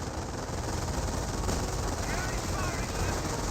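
Gunfire hits a rifleman squad in a Company of Heroes match, with rattling automatic bursts and shots running continuously beneath a commentator's voice amid dense battle noise.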